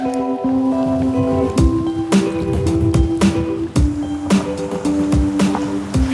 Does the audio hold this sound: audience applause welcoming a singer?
no